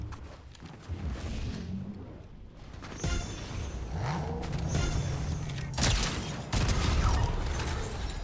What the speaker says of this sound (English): One more shotgun shot.